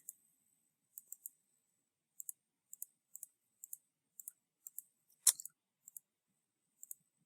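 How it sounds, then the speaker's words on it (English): Light keyboard typing, small sparse clicks often in quick pairs, with one sharper clack partway through, in an otherwise quiet room. "Just typing it all in"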